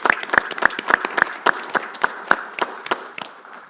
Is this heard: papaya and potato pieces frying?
no